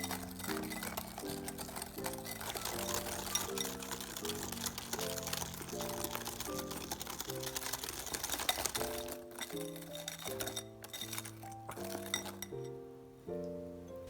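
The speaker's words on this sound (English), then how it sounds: "Add in the cornstarch and whisk together." Egg yolks, sugar and cornstarch whisked together in a bowl for a tart filling, giving rapid, steady metallic clinking that runs throughout under a musical backing, thinning out toward the end.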